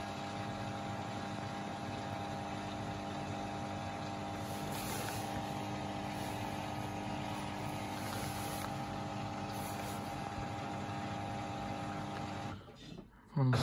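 A Beko WMB91442LW washing machine on the final spin of a woollens 40° cycle whirs with a steady, even drone, fairly faint, before it abruptly winds down near the end.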